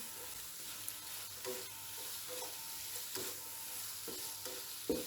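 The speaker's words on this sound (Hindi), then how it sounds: "इसको हम मिक्स कर लेंगे तकरीबन 30 सेकंड्स के लिए।" A soy sauce and oregano mixture for baked macaroni is stirred in a pan, giving a quiet, even frying hiss with soft, regular scrapes of a spoon against the pan, near and without any talk.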